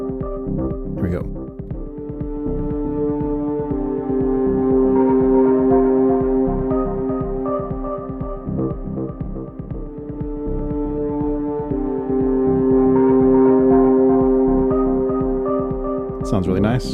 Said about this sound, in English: Now let's check out reverb.